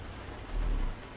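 Heavy in-game rain drums on a truck in American Truck Simulator, a steady wash of noise with a low rumble that swells briefly in the middle before settling back.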